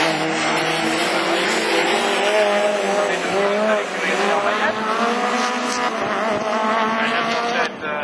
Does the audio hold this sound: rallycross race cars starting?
yes